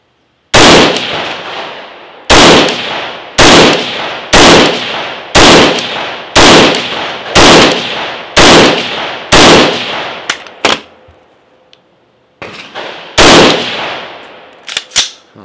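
Rifle shots from a 14.5-inch AR-style upper firing 55-grain full metal jacket ammunition at an outdoor range: about a dozen loud, sharp, close reports at a steady rhythm of roughly one per second, a pause, then a few more.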